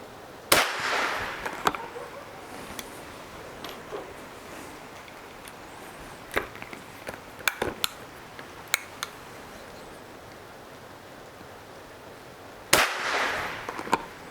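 Shots from a 109-year-old Stevens Marksman rifle fired offhand at a target outdoors, single sharp cracks spaced several seconds apart, moderately loud against quiet background.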